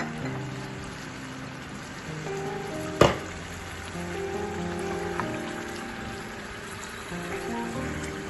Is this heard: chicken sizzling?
yes